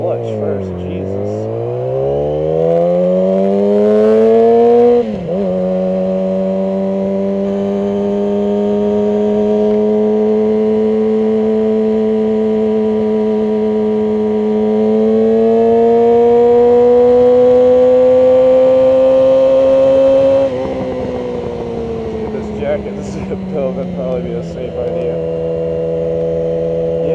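Motorcycle riding on a new chain with fresh front and rear sprockets, engine note climbing steadily through the gears with a brief shift dip, loud and continuous close to the rider, with someone talking over it at times.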